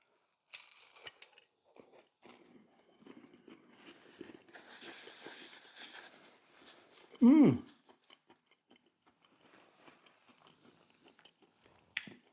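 Someone bites and chews a piece of hard, dry pastry from a budget pie, making close crunching and mouth noises, with one loud sharp bite partway through and quieter chewing around it.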